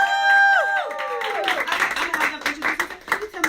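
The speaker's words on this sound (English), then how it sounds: "Give them a round of applause." A conference audience at a mother-and-daughter event welcomes two young girls onstage; a brief voice sounds first, then clapping builds into uneven, close applause.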